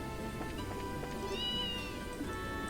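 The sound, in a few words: cat meowing, from video game Trails in the Sky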